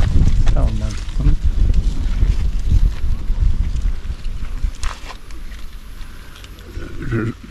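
Wind blows steadily outdoors in a village, a loud rumbling buffet on the microphone that continues throughout while people talk over it.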